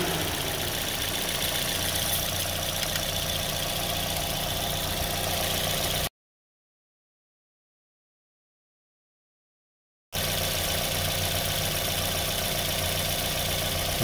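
A 2010 Toyota Yaris idles in park with a steady, even engine hum, dropping into several seconds of silence before the idle resumes.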